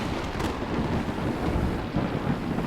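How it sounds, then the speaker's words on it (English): Rolling thunder with crackling lightning rumbles steadily, loud and dense, a continuous heavy roar with low booming undertones and no voices. "There was a loud thunder and crackling lightning"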